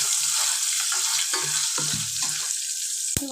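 Whole spices crackle and sizzle steadily in hot oil for a tempering, a close, continuous bright hiss with faint low clatters of stirring underneath and one sharp tap near the end.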